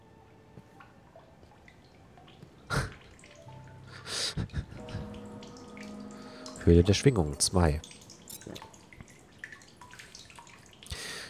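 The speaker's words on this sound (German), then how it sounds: "ich sprach von Wasser und schon hört man es plätschern" Water splashes and drips inside a cave in the video game The Solus Project, with a few sharp drips, then a cluster of louder splashing sounds near the middle before fading back to quiet ambience, with a voice speaking briefly.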